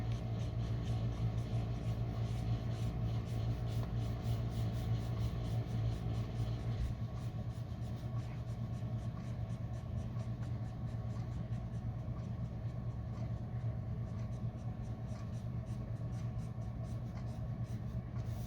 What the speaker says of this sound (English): Using the side of that nib, nice wide path of color